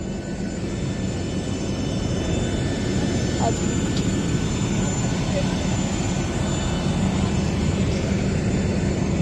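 Steady, loud engine drone of a small passenger airplane in flight, a continuous broadband roar heard from inside the cabin with no clear breaks.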